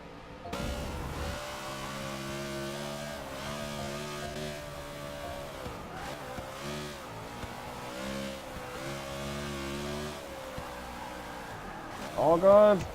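On-board racing car engine during a race, a steady droning engine with rising and falling revs through shifts and a brief louder burst near the end, heard under commentary.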